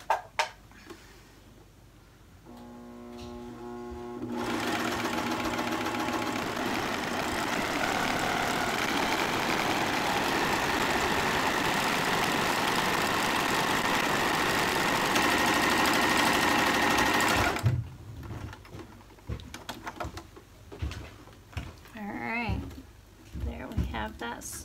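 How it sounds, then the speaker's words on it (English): A sewing machine runs a steady straight-stitch hem for roughly thirteen seconds, a continuous loud mechanical whir that starts and stops abruptly, with talk and handling noises on either side. "we're just going to sew that hem in place"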